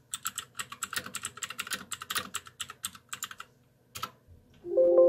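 Rapid, fairly loud keystrokes on a computer keyboard in a steady burst of typing, pausing near the end before a few final taps and a brief tonal beep.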